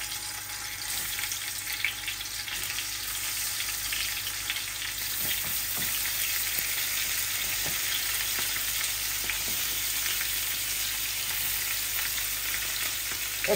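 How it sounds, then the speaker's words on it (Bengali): Fish fries in hot oil in a pan, a steady close sizzle with crackling pops throughout, loud and continuous with no talk. "আর মাছগুলা আমি ঢেলে দিব এখন এই ভাজির জন্য। মাছ ভাজির তেল গরম হয়ে গেছে"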